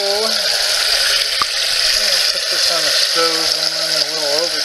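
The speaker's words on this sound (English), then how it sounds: "Alright, time to tackle these stupid dishes again." Dishes being washed in a sink with running water, a steady rush of tap water with scattered clinks and clatter of dishware, and a voice speaking intermittently over it.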